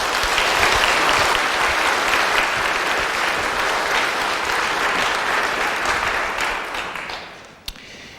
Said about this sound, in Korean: 여러분들 인사드릴 때 환영의 박수 부탁드리겠습니다